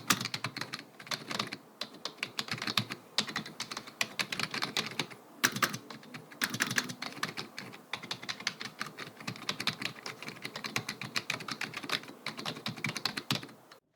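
Rapid, steady typing on a Razer Ornata V3 X, a full-size low-profile membrane keyboard with ABS keycaps, gives soft, dense clatter with brief pauses, close and alone with no talk.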